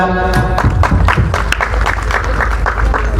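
A group of people claps hands together continuously at close range, with a loud, dense, irregular patter that does not let up.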